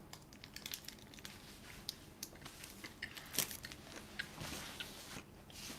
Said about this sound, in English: So it's chocolate with a soft nougat and some like... some crispy, crunchy pieces in it.